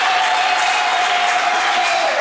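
Wedding guests respond with loud, continuous applause mixed with a sustained high ululating tone, a dense crowd noise filling the whole moment without a break.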